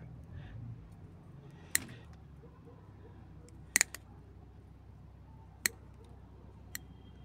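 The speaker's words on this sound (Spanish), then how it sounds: "hoy toca trabajar nada más con estas tijeritas" Small scissors trim the branches of an ahuehuete bonsai, giving a few sharp, isolated snips spaced seconds apart over a quiet background.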